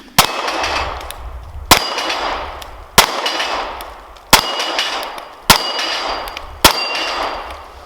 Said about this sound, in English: You saw a little action of us shooting it there